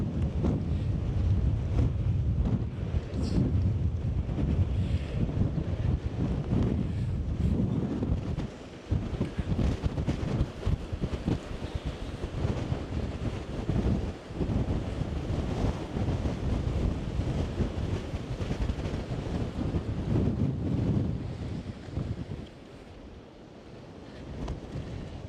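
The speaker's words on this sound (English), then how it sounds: "Proper windy." Strong storm wind buffets the microphone in loud, rough gusts, with waves and surf churning underneath, easing briefly near the end.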